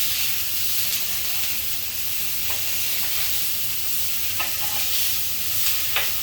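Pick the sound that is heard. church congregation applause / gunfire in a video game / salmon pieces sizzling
salmon pieces sizzling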